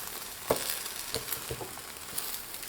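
An egg and scallion pancake fries in a pan with a soft, steady sizzle. A few light taps and clicks from turning it come through near and alone.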